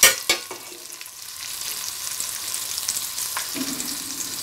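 Chili powder and chopped green chilies fry in hot oil over a medium flame for an Andhra-style crab curry, a close steady sizzle opening with a few sharp clatters of stirring.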